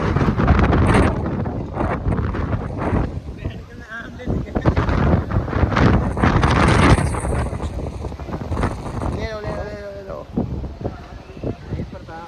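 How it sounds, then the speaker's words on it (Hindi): Strong gusty wind roars across an outdoor cricket match in stormy weather, loud and buffeting the microphone throughout, with people talking and shouting beneath it. "हवा चल रही थी बहुत तेज"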